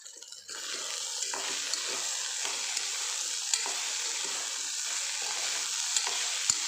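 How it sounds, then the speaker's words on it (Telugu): Brinjal pieces frying with salt in a pan give off a steady, close hiss of sizzling oil, with faint stirring clicks scattered through it and no voices. "ఇట్లాగే ఫ్రై చేసుకుంటూ ఉండాలి"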